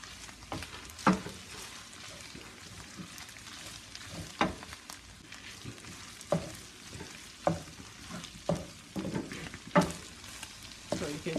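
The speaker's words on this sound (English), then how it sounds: "So you just keep stirring and checking on it until it's really golden brown." Meat pie stuffing frying dry in a pan with a soft continuous sizzle, broken by repeated scraping stirs of a spoon at irregular intervals, close and fairly quiet.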